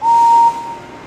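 A single short, shrill steam whistle blast in the video game Thomas and Friends: Trouble on the Tracks, clear and loud, cutting off after half a second and leaving a brief fading tail.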